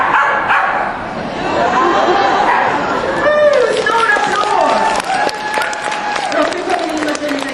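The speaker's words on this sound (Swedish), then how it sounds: "Stor applåd!" An indoor crowd at a dog agility demonstration applauds in sustained clapping, mixed with dogs barking and lively chatter throughout.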